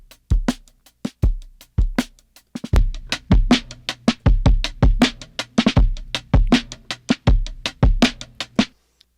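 A punchy drum loop run through crunchy saturation and a drum bus on a medium setting with light drive; dense, gritty kicks and snappy hits tumble in a busy, syncopated groove, loud and close with no voices.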